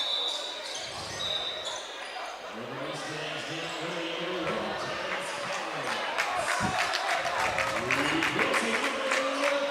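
Applause and crowd noise fill a gymnasium during a high school basketball game, mixed with squeaking sneakers, a bouncing ball and talk over the din.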